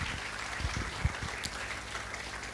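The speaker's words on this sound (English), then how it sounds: "Another round of applause" Dinner audience applauding at a medical graduating class finalists' dinner: dense, steady clapping from a crowd throughout, with a few louder individual claps standing out.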